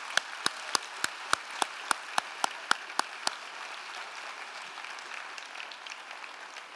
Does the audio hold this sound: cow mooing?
no